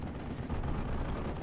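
Gunfire and explosions from a Steel Division World War II strategy game battle form a dense, continuous rumbling barrage, loud and unbroken, with no distinct single shots standing out.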